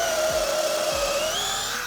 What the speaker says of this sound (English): So we're gonna drill a hole in the ledger for our wire to pass through.